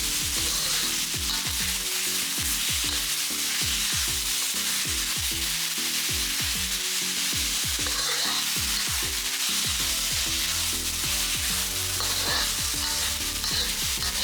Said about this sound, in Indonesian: Lanjutkan diongseng-ongseng